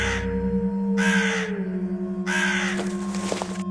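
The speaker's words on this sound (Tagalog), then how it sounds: "Yun yung huni ng ibong narinig ko noong nakaraang gabi ha." A bird calls at night in three loud, harsh cawing bursts over a constant droning hum, each call separated by a short pause.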